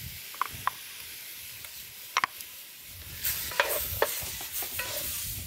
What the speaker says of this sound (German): Und das rösten wir jetzt richtig schön an.